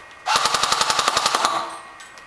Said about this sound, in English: AK-47 Kalashnikov right there.